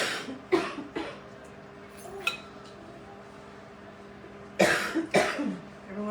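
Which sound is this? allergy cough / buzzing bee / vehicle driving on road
allergy cough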